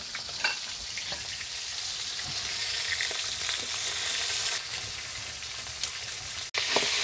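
Rohu fish heads fry in hot oil with a steady, fairly loud sizzle and scattered pops, then a brief dropout before the sizzling resumes.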